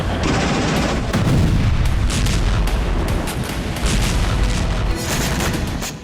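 Artillery fire in Luhansk: a dense, continuous rumble of booms and blasts, loud and unbroken for several seconds, with no voices.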